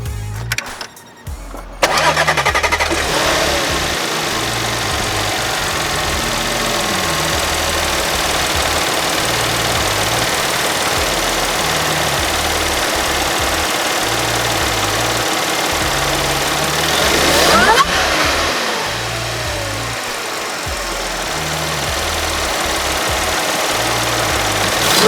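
Audi B8 S4 supercharged engine starts up, then idles close by with a steady drone and a high whine, followed by a brief rev swell near the end before settling back to idle.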